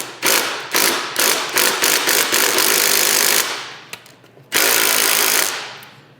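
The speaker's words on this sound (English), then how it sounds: "if I pound on this extractor, we should hopefully be able to get it off" Repeated loud metallic pounding on a bolt extractor fitted to a stripped Allen bolt on an Evo 8 seat, coming in a fast irregular string of strikes, then a pause with a few light taps and a final longer burst.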